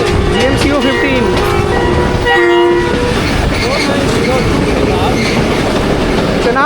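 The Chenab Express, a Pakistani passenger train, rolls past loudly and up close with a continuous rumble and clickety-clack of wheels, a long horn blast sounding through, while a person speaks over it.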